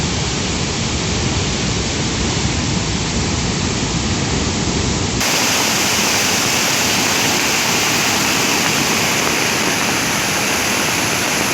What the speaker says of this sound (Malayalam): കഴിഞ്ഞ ദിവസം വരെ പെയ്ത മഴയിൽ മലപ്പുറം ജില്ലയുടെ മലയോര മേഖലകളിൽ പുഴകൾ കരകവിഞ്ഞു.